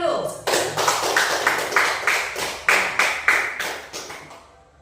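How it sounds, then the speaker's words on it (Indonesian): A primary school class claps together in a rhythmic patterned cheer, about a dozen sharp, evenly spaced group claps at a lively pace, fairly loud in an indoor classroom, fading out at the end. "Oke, tepuk tangan dulu."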